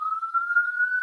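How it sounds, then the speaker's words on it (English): A wailing ambulance siren outside, heard as a steady, clear tone that rises slightly in pitch, fairly loud and alone without speech. "It looks like an ambulance apparently has stopped."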